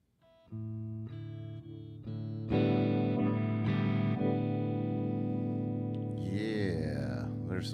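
Electric guitar run through effects pedals, sustained distorted chords with chorus and reverb that ring loud and close, building in layers before a swirling, warbling modulated tail.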